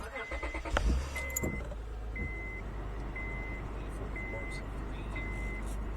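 A Honda car idles with a steady low engine drone, fairly close and continuous, with a few clinks and a brief thump early on and a faint repeating beep tone over it.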